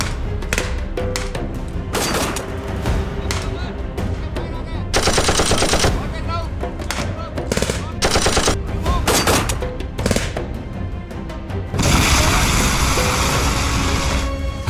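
Heavy automatic gunfire from an enemy position at night, loud sustained bursts and rapid volleys filling the whole stretch with dense overlapping shots, a long roaring burst at the end.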